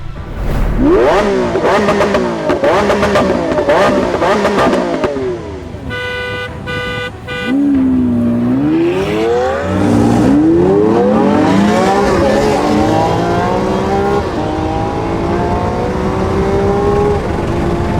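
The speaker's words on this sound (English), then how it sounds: "And now we're gonna race this white Aventador." A Ferrari 812 Superfast racing a white Lamborghini Aventador, with loud engine revving and sweeping acceleration pulls up close, a horn tooting midway, and rising engine notes continuing to the end.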